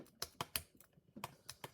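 A handful of computer keyboard keys pressed quietly in an uneven rhythm, a close series of soft clicks and taps during a backup of a NeXT computer's SD card.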